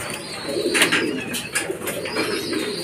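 Soft, repeated cooing from racing pigeons close by at a loft, over a steady background hum, with a few faint chirps mixed in.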